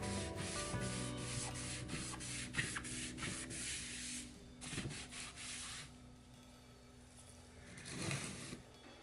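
A cloth rubs leather dye onto a leather belt in a series of soft, close scrubbing strokes, quiet and continuous with slight variations in pressure.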